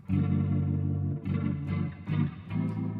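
Electric guitar chords played through a Boss RT-2 Rotary Ensemble pedal in stereo with reverb, several strummed chords in succession, loud and close, each ringing out with a wavering shimmer.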